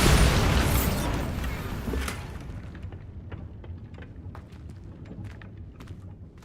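A Bombarda spell explodes in Hogwarts Legacy with a loud, broad boom that slowly decays into a rumbling tail, followed by scattered small clicks and debris-like ticks.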